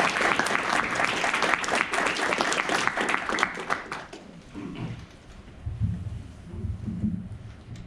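An audience at an EVE Vegas 2019 convention panel breaks into loud, dense applause after a talk on leadership, fading after about four seconds as murmuring and voices take over.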